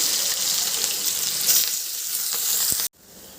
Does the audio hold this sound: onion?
yes